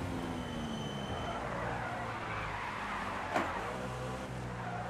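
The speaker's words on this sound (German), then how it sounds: "Jetzt wollte ich euch noch mal ganz kurz zeigen, wo wirklich der Grenzbereich dieses Trabant 601 Deluxe liegt in der Cup-Version" A Trabant P 601 Deluxe Cup race car on the Sachsenring track gives a steady, continuous engine and road roar at moderate level, without speech.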